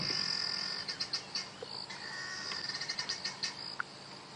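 Guinea fowl give alarm calls outdoors at sunrise on a safari drive: faint, distant bursts of rapid clucking chatter rise over a constant high insect and bird chorus.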